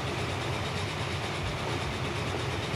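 Trains running in Transport Fever, a steady loud rumble of rolling rail traffic with a dense, unbroken texture and no talking.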